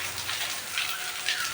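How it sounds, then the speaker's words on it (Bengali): Heavy rain pouring down steadily outside a car before setting off on a trip from Kolkata, a dense close hiss of falling water with no voices. "বৃষ্টি পড়ছে প্রচুর প্রচুর করে"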